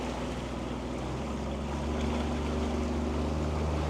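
A Jeanneau 350 Sun Odyssey sailboat's engine roars steadily at full throttle above 3,000 rpm, a loud continuous drone with a low rumble and wash of water and wind, growing slightly louder partway through.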